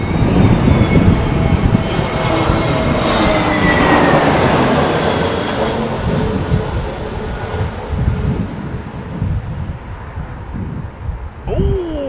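An Aer Lingus airliner landing at Heathrow during a storm, its engines a loud, broad roaring rumble with falling whine tones as it passes overhead, then fading, buffeted by wind noise.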